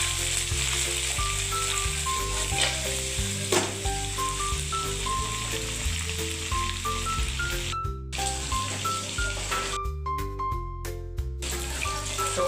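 Chicken pieces fry in a pan for adobong sitaw, a steady close sizzle and crackle running throughout with faint background music-like tones and brief sharp cutoffs, no talk.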